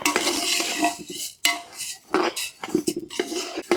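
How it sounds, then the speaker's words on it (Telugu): Coriander seeds being dry-roasted in a pan for Andhra curry powder, with a spoon repeatedly scraping and clinking against the metal in irregular bursts and brief pauses, close and fairly loud, no talking. "ధనియాలు చక్కగా ఎర్రగా వేగేటట్టుగా వేయించాలి."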